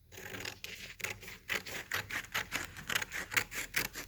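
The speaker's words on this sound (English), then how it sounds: "So I'm just going to cut that off with my scissors." Scissors cut through folded paper while making a paper snowflake, giving a close, steady series of crisp snips and scrapes about every half second.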